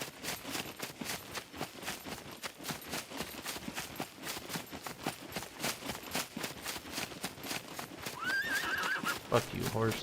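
A horse in the survival video game SCUM trots with steady, rapid clip-clop hooves while a speaker talks over it, then gives a loud, drawn-out neigh near the end.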